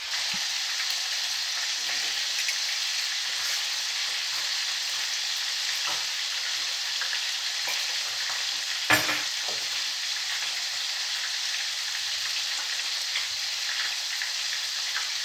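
Vegetables sautéing in a pan for pork liver igado, a steady broadband sizzle and crackle throughout, close and even, with one brief louder clatter near the middle and no talking.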